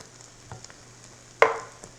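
Sloppy joe meat frying in a pan, giving a soft sizzle with a few faint pops and one sharp, louder pop-and-hiss burst near the end.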